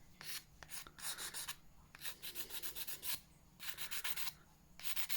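A nail file rasps across fingernails in quick bursts of back-and-forth strokes with short pauses between sets. It is close and fairly quiet, with no talking.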